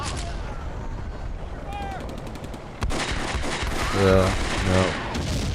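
Artillery fire in the video game Combat Mission: Beyond Overlord, at La Fiere: a steady roar of battle noise with rapid crackling gunfire bursts, then a loud heavy blast that lifts the din, while someone speaks briefly over it.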